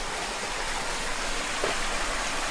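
A stream flows near the Līču-Laņģu sandstone cliffs, its water looking slightly rusty, giving a steady close rushing and babbling that continues unbroken and alone.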